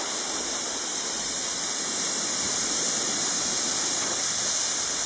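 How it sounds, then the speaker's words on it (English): Spray adhesive hisses continuously onto mattress layers, a steady, loud, close-up rush of air and glue with no pauses. "a little bit of adhesive in the middle of the mattress"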